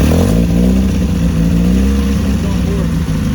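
An LS V8-swapped Mazda Miata roars on nitrous, a loud, close, rough engine drone that holds steady with a choppy, uneven tone as if misfiring, with talk faintly mixed underneath.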